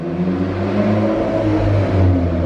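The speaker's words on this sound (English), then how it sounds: "What a loud vehicle." A loud car engine revs close by, a heavy low rumble that rises and swells in pitch over a couple of seconds, alone without voices.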